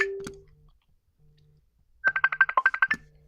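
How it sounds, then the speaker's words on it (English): A phone's ringtone for an incoming call, heard backstage during a Halloween scare event at Busch Gardens Tampa; a loud, close burst of rapid electronic tones about a second long follows a few softer beeps. "I'm getting a phone call from Fury."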